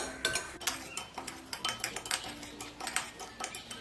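A spoon stirs breadcrumbs and orange food colouring in a bowl for sweet rolls, giving quick, uneven metallic clinks and scrapes at close range with no talking.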